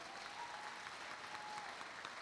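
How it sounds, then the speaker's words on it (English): A crowd at a school graduation ceremony gives a round of applause, a faint, even wash of distant clapping that holds steady throughout. "Please give them another round of applause"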